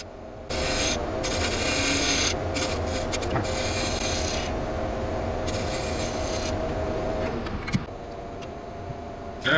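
A carbide tool scrapes against a wooden bowl spinning on a lathe, producing a continuous raspy cutting noise that comes and goes in bursts as the tool engages the wood, close and fairly loud.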